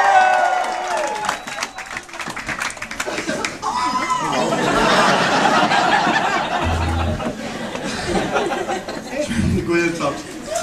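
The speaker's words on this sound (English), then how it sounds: "round of applause there for Tom" A pub crowd at a comedy gig at Whelans applauds Tom, a loose round of clapping mixed with chatter and chuckles, building in the middle and thinning out, with talk running throughout.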